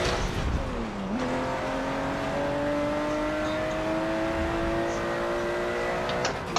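Racing car engines in the Forza racing game rev hard and loud, pitch dropping at a gear change then climbing steadily, with tire squeal and no voices.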